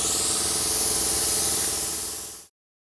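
Aerosol gasket spray hissing onto an engine during an LS swap head gasket repair, a single loud, steady spray lasting a couple of seconds that fades slightly and then stops abruptly.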